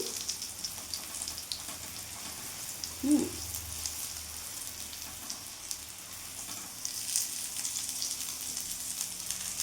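Pieces of pointed gourd (potol) fry in a pan with a faint, even crackling sizzle, and a single soft thump of a spatula partway through.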